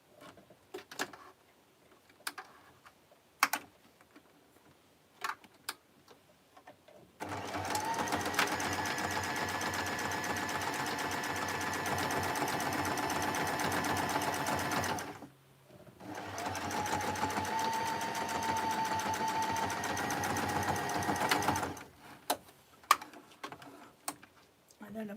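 A sewing machine runs in two long continuous bursts as it sews up the ends and bottoms of a piece. Scattered clicks and handling noises come before and after the bursts.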